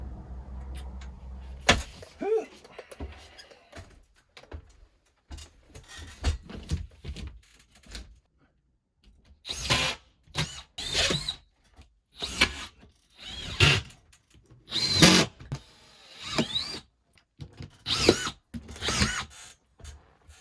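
Power drill driving screws into drywall while hanging a ceiling, heard as repeated short loud whirring bursts of several seconds each, separated by brief pauses and handling noise.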